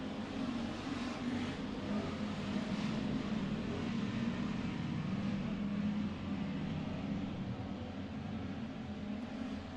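Hobby stock race cars roar around Merced Speedway, running side by side as a steady, distant engine drone that holds without a break.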